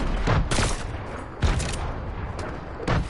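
A grenade goes off during a Fortnite World Cup week 10 finals match, with several loud booming bursts and crackling gunfire-like blasts spaced across a few seconds, close and dense, with no talking.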